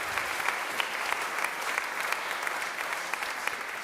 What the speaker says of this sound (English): Can you please give her, even before she comes up,